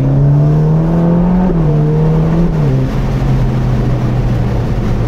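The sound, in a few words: Ferrari Roma Spider engine revving at high rpm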